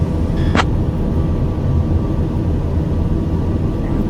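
The turboprop engine of a TBM 850 in a flight simulator video game hums steadily as a loud, constant low drone. A short high beep-like tone stands out near the start.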